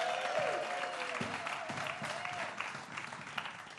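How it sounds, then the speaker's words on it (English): Sustained audience clapping at a talent-style elimination show as a contestant crosses to the stage, a dense even wash of many hands at moderate loudness with faint crowd murmur. "keep that applause going"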